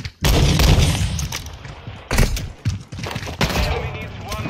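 Heavy shotgun and musket blasts in a multiplayer video game, several loud booming shots at irregular intervals, close, with players talking over them.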